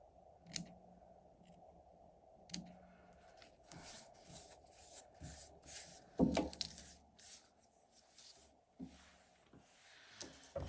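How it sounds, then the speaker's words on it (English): Scissors snipping frayed threads off pre-cut fabric for a miniature DIY house kit, a string of small quiet snips and rustles close by, with a faint steady hum underneath. "We got a lot of little frays here. I'm gonna snip them off for now."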